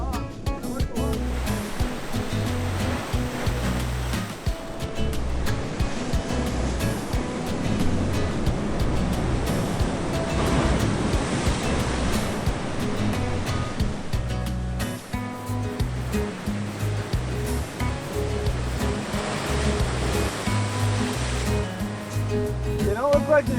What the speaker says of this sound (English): The waves were just too big today.